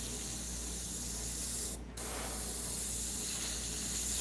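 Spray paint hisses steadily onto an ocean wave painting in two close, continuous bursts broken by a brief pause, a loud airy rush with no voices.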